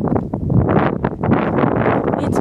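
Steady broadband wind roar buffeting the microphone, loud and continuous with gusty swells, no speech.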